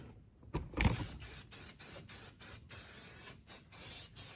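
Harbor Freight etch primer is sprayed from a can around welds on a 1949–51 Mercury being air-bagged. About ten short, even hissing bursts come in a steady rhythm, close to the ear and with no talking.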